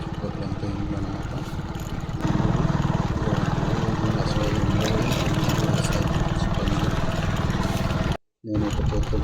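A motorbike ridden through a home neighbourhood in Gorantla, Andhra Pradesh, with a steady engine drone that swells louder about two seconds in, holds while riding, and cuts out briefly near the end.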